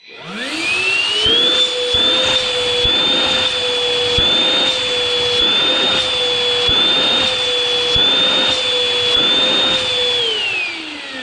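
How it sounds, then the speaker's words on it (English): A MOOSOO XL-6 cordless stick vacuum cleaner runs at high power, giving a loud, steady, close whine that spins up at the start, holds with faint pulsing and soft knocks, then begins to wind down at the end. "I have never seen so much suction with a battery vacuum"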